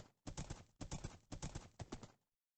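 Horse hooves clip-clopping in the block-built world of Minecraft, four quick bursts of rhythmic clopping with short gaps between them, fairly close and clear with no talking over them.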